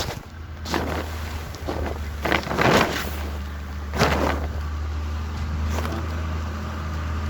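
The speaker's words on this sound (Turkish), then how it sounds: "Evet, kamyon da geliyor." A truck arriving at a field to load wheat rumbles with a low, steady engine drone, joined by a few louder passing swells and rustling noises outdoors.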